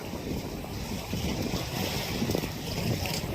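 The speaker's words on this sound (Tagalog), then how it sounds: "Malalaking alon at malakas na hangin." Big waves and strong typhoon wind on the open sea at Surigao, a dense continuous roar of surf and gusting wind buffeting the microphone, loud and unbroken throughout.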